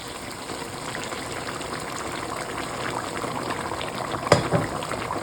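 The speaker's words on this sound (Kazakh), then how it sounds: "Енді су құямыз" Continuous gushing of water being poured into a pot of meat for Uzbek plov, a steady liquid rush with a brief clatter near the end.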